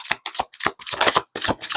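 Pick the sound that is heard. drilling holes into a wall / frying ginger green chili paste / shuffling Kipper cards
shuffling Kipper cards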